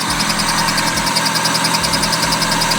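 A VAZ 2101 engine runs at a steady, loud idle with an even low throbbing pulse and a constant mechanical drone, heard alone without talking; the start itself is not evident.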